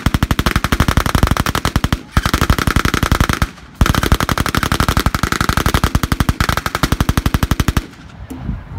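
A machine gun fires loud, close bursts of rapid automatic shots at a historical reenactment in Stanhope, UK, with two brief pauses between long strings of fire before it stops.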